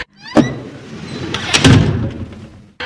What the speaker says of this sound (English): Then the lights came on again, but the doors closed automatically.